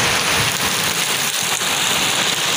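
Steady heavy downpour in a village setting, a dense continuous hiss of rain close by with faint low rumbles of thunder underneath, no voices.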